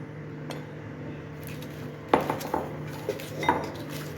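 A spoon clinks and scrapes against a bowl in a few sharp taps while a gram-flour mixture with carom seeds and turmeric is stirred together, close and quiet between strikes.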